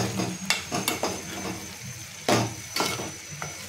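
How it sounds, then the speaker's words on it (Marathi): Spices and sprouted moth beans stirring and sizzling in a pan, with a few sharp scraping strokes of a spoon against the metal. "मसाल्यांमध्ये ते छान मिक्स करून परतून घ्यायचे आपल्याला।"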